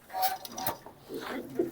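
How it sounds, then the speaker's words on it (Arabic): Red full-colour Titan pigeons coo softly in a loft, with a few low murmuring calls and light clinks under faint background voices. "حمام تيتان احمر فول كلر"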